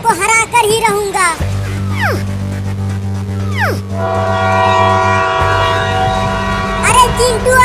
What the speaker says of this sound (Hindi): इसी लाइन पर आगे से एक और ट्रेन आ रही है।